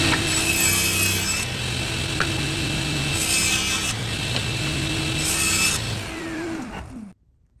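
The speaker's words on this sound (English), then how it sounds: "I'll cut out 2 pieces from this piece of walnut right here" A hand saw cuts through walnut to make two pieces, with steady, close rasping strokes that continue without a break and then stop abruptly near the end.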